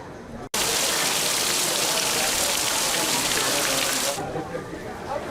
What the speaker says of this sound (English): We want to give you a closer look at some of the rain now that we've been seeing